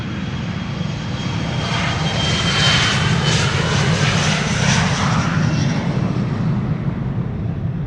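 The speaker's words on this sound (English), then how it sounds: "There was a departure that still departed just now." An airliner takes off at Amsterdam Schiphol Airport, its engines a loud, sustained roar with a broad rumbling low end that holds steady for the whole stretch.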